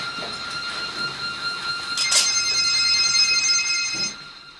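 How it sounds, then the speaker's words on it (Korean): Security alarm ringing steadily as a double-locked door to a drug storage room for sniffer-dog training opens, a continuous high electronic tone with a brief louder burst midway, carrying on for several seconds alone. "이중 열쇠문을 열자마자 경보가 울린다"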